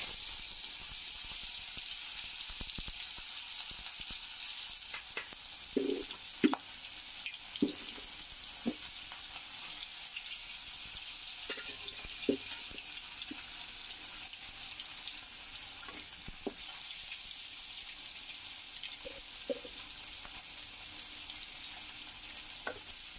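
Hilsa fish pieces, rubbed with salt and turmeric, fry in a pan with a continuous hissing sizzle, punctuated by a few soft clinks and scraping sounds.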